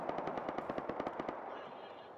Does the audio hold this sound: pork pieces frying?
no